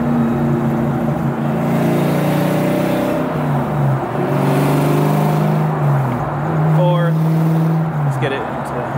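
The supercharged modular V8 of a 2003 Ford Cobra, heard from inside the car, climbs in pitch as it accelerates, a loud steady engine drone that rises and falls across gears while someone talks over it.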